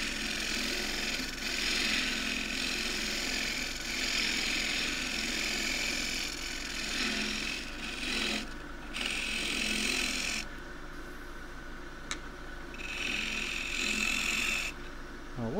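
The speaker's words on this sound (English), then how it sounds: "It's basically a shear scrape with the wing" Thin pot spinning on a wood lathe while a traditional gouge makes a steady shear-scraping cut with its wing, a continuous close rasping hiss with brief pauses as the tool lifts off.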